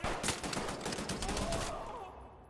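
Rapid gunfire from a firefight in Wolfenstein: The New Order, a dense burst of shots that fills the first two seconds and then falls away, with no talking over it.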